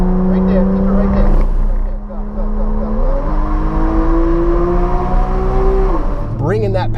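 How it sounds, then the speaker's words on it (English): Porsche 911 GTS on a race track powering out of a turn, its engine note rising steadily in pitch through several upshift steps, loud and close, with a voice talking over the acceleration. "Bringing that power up so that you can power out of that turn and get your speed back up again."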